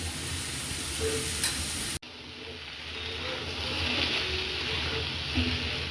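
Potatoes dropped into hot oil for a Punjabi gajar matar gobi dish sizzle and hiss steadily, a continuous close frying crackle with light stirring, broken by a brief cut partway through.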